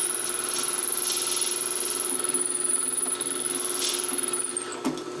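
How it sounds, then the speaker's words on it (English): A drill press trims a pen barrel, giving a steady high-pitched whine with a continuous grinding, rasping cut for about five seconds before stopping abruptly near the end. "I can just put it in there and very quickly"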